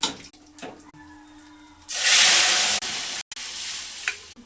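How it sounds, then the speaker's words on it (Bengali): Dried chillies and fennel seeds tempering in hot oil in a wok, a bright burst of sizzling that rises sharply and holds for a couple of seconds before easing off, close by and without speech. "কড়াইতে ফোটাতে দিয়েছি, শুকনো লঙ্কা দিয়েছি, মৌরি ফোড়নে দিলাম"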